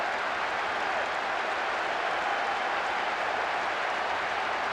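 Stadium crowd noise in the football video game PES 6, a dense, steady roar of applause and cheering that holds at one loud level throughout, with no break.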